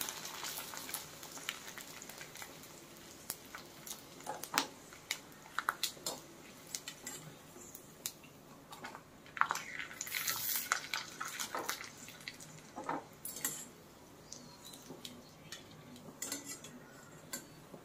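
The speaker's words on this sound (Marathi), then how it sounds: "तेल तापलेलं आहे, आपण आता तळूया" Rice salpapadya, steamed rice papads, frying in hot oil, a steady crackling sizzle with scattered sharp clinks and scrapes of utensils against the pan, close by and moderately loud throughout.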